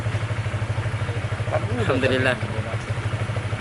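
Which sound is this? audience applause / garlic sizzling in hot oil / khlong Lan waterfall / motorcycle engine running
motorcycle engine running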